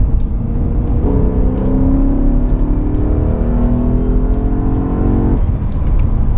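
BMW E90 M3 accelerating hard on a back road to pass another car, its engine note climbing in rising harmonic sweeps before abruptly cutting back; loud, close and continuous from the cabin.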